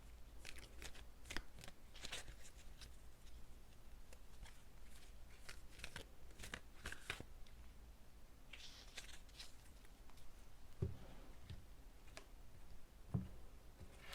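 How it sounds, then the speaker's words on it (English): A deck of oracle cards shuffled by hand for a pick-a-card reading, giving quiet repeated riffles, flicks and soft taps up close, with a couple of sharper clicks near the end and no talk. "I'm going to give them a little bit of an extra shuffle here for you"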